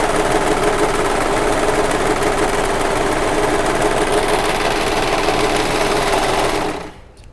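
A serger overlock machine stitching fabric, a loud, continuous close whirring hum running steadily for several seconds before cutting out abruptly at the end.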